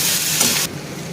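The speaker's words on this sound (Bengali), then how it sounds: "এবার আরেকটু ভেজে নেব এটা।" Dried fish curry with potato, onion, crushed garlic and turmeric frying in a pan, a loud close sizzle that drops abruptly to a quieter hiss partway through.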